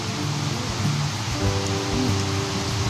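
Heavy rain pours steadily outdoors as a broad, dense hiss. Faint low tones and murmurs sound beneath it.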